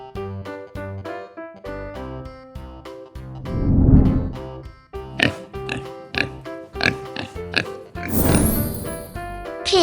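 A pig oinks and snorts repeatedly in short, uneven bursts, close and fairly loud, with a few longer grunting squeals between quieter gaps.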